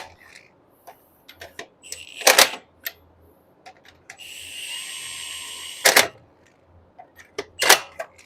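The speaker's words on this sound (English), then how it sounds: "So you're only going to hear it click twice." A tool on a 4Runner tie rod being tightened gives sharp, loud mechanical bursts, with a sustained whirring stretch between them and smaller ticks and clatter around, close by.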